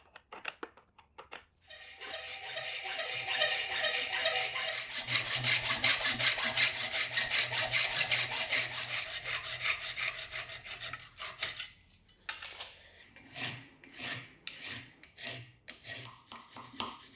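A hand saw cuts a section from a wooden divider leg, a long run of rapid, rhythmic rasping strokes close by, then slower scattered strokes and brief pauses.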